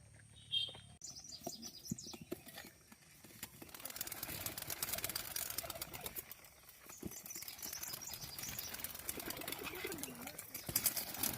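Racing pigeons released on a foggy morning for a 10 km toss: a brief burst of wing flaps, then scattered chirps and soft coos over a constant outdoor hiss, fairly faint.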